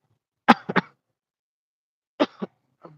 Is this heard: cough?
yes